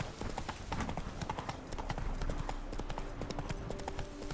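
Roach the horse trots in The Witcher 3: Blood and Wine, hooves clip-clopping in a quick, steady rhythm that runs throughout, fairly close and moderately loud, under a low ambient game background.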